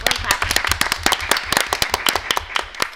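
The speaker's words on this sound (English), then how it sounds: "Yeah, let's clap." Applause at a school board meeting: a room full of people clapping close by, dense and lively, with crisp individual claps running steadily for the full stretch.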